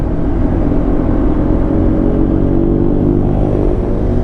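Loud, continuous engine rumble of big motorcycles rolling past close by on a road near Kaybiang Tunnel, Cavite, a steady throaty drone with no voices.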